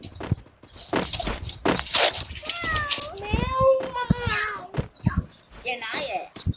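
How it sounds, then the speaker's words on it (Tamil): A cat meows indoors in a house, several rising tonal calls in the middle, mixed with speech, footsteps and thumps. "எங்க வீட்டுல ஒரு கள்ள பூச்சை கிடக்கு."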